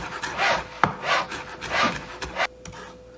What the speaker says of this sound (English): Just chop it up really fine.